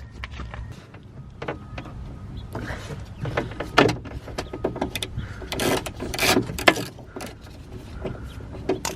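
A rear electric window on a BMW E46 being lowered, heard as a faint motor whir among clicks and knocks from the door mechanism.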